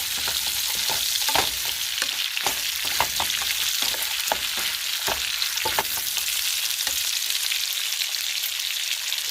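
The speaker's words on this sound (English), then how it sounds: "it's not necessary to move the bacon around like that. It's going to cook." Bacon crackles steadily in a pan while being pushed around, the constant hiss punctuated by frequent spatula scrapes and taps, close up with no voices.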